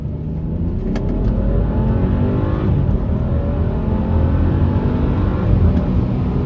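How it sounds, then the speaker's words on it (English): A BMW F30 335i pulls hard through second gear, its engine note rising steadily and loud for several seconds with a continuous exhaust drone and no talk. "we're gonna do second gear. We're gonna let this car get some distance."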